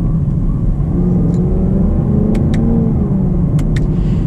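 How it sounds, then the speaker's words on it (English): A 2020 Chevy Camaro SS engine roars steadily from inside the cabin, its pitch sweeping as it revs through downshifts, loud and continuous with a few faint clicks over the rumble. "I'll do a couple downshifts for you guys so you can kind of hear"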